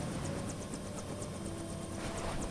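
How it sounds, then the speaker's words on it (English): A helicopter in Lego Jurassic World rumbles steadily with a rhythmic rotor beat, a continuous mechanical drone at moderate loudness throughout, with no voices. "You can hear the game, the helicopter going"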